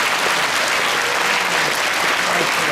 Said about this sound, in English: Boys and girls, how about a really loud South School round of applause for these veterans?